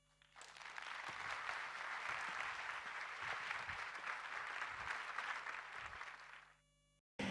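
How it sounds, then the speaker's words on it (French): A theatre audience claps together after a performance, dense sustained applause building quickly, holding steady for about six seconds at a moderate distance, then fading out abruptly. "vous avez entendu les applaudissements"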